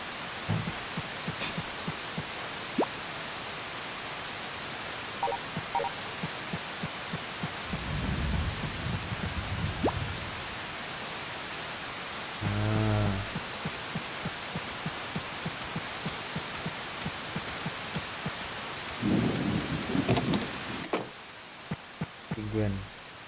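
Steady rain patters throughout a stormy day in the Harvest Moon Save the Homeland video game, broken by several deep rolls of thunder that rumble up and fade at intervals.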